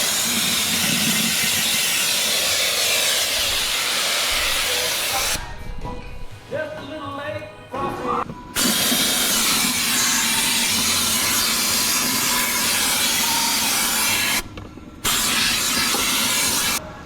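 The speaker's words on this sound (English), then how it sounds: "Alright, let's vacuum this." A vacuum cleaner works over the engine area of a Hyundai Santa Fe with a loud, steady, close roar and hiss. The noise breaks off twice for a few seconds, with brief rattles and bumps in between, before starting again.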